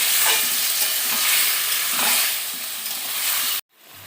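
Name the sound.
vegetables being stirred while frying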